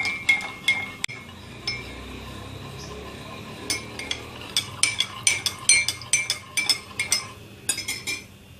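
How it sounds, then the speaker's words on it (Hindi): A metal spoon stirring sugar syrup in a vessel to dissolve the last sugar, sharp clinks against the sides that start sparse and grow into a quick, uneven run of taps, close up with no talk. "थोड़ी सी रह गई, उसको हम चम्मच की मदद से हल कर लेते हैं।"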